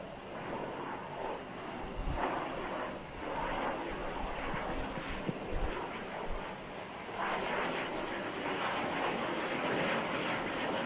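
Chinese fighter jets fly near the Taiwan border, producing a continuous broad roar that swells and fades with faint rumbling thuds, steady and moderately loud with no voices.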